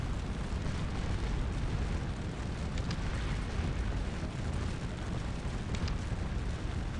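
Artillery fire and explosions from the Napoleonic battle game Scourge of War: Waterloo form a dense, continuous rumbling roar of booms, steady and loud throughout, with no voices.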